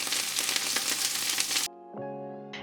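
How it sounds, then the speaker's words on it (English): Vegan sausage links browning in a pot give a loud, steady sizzle, which cuts off abruptly partway through and gives way to a quiet tonal sound. "Listen to those sausages sizzle."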